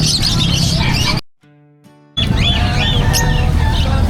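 A dense, loud chorus of squawking and chirping birds fills a pet bird market, breaking off briefly to near silence with faint tones before the clamor resumes just as loud.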